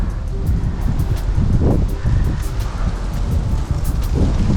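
Wind gusts rush steadily across the mic during an outdoor disc golf round, a constant low roar with no talk.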